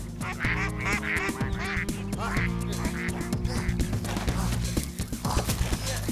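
A duck quacks repeatedly in a busy, rhythmic run of nasal calls, loud and close, layered over a dense droning background.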